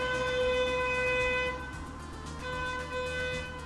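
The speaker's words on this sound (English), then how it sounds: "there's no need to be rude about it. Mr. Honk Man" Vehicle horn at a music festival, a sustained, loud horn tone held for about a second and a half, then a second, weaker horn blast sounding nearby.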